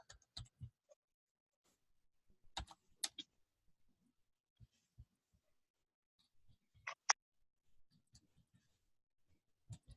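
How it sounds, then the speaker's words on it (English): Slow, sparse typing on a computer keyboard: scattered single key clicks and small clusters of taps, close and fairly quiet, with long silent gaps between bursts. "I apologize for my really slow typing."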